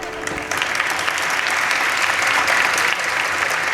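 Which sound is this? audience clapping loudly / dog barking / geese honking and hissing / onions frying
audience clapping loudly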